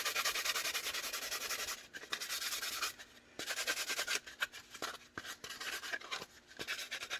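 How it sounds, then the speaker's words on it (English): Steady abrasive rubbing as a knife edge is buffed, a continuous sanding-like scrape that pauses briefly a few times and resumes in close, even strokes. "Just gotta buff it a little bit. Get that nice edge we like."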